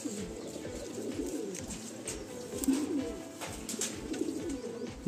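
A Madrasi pigeon coos softly and repeatedly at close range in a loft, with a low rhythmic burble and faint background noise, and no talking.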